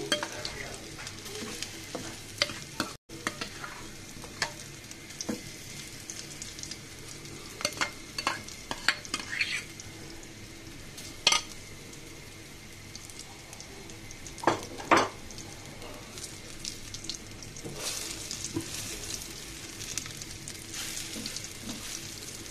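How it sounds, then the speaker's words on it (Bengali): Egg and onion fry steadily in a pan with a continuous sizzle, broken by scraping stirs and occasional clinks of the utensil against the metal, fairly close and with no voices. "দেখুন বন্ধুরা খুব সুন্দর করে ভাজা হয়ে যাচ্ছে"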